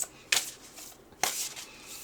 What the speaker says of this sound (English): I'm going to take a moment while I quietly just shuffle and pull your cards